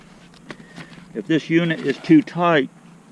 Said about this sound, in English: You'll kill every bee that I just sucked up.